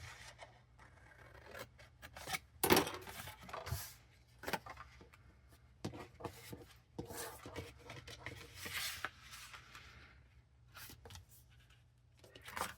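Paper pieces are cut with scissors for a Stampin' Up toadstool garden box craft, making quiet, close, intermittent snipping and rustling strokes over a low steady background hum.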